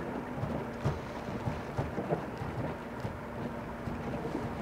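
Rain falling near a shoreline, a soft continuous patter with faint scattered drops and low rumbles, quiet and steady with no voices.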